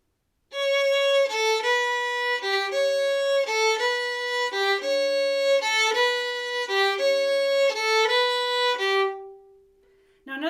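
A violin plays a steady practice passage from 'Red Haired Boy' with sustained notes and frequent note changes, clear and close, with no talking.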